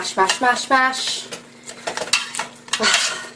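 Tomatoes being mashed in a pot for homemade tomato sauce, giving a series of close, uneven clinks and squelches of a utensil against the pot, with a voice speaking over parts of it.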